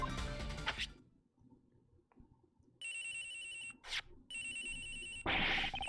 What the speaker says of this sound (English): It's his phone. It's ringing from somewhere, sir.